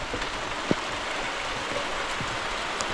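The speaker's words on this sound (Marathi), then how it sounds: "मस्तपैकी बघा पाऊस पडतोय आणि पावसात भिजतोय" Morning rain falls steadily on a Konkan village, a dense, even hiss of drops without pause, with a couple of faint sharper taps near the start and toward the end.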